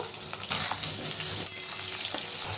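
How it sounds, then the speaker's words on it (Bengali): Potato pieces fry in hot oil in a pan, giving a steady, close, bright sizzle that continues evenly throughout with faint stirring movements and no talk. "আলুগুলো ভেজে নেব"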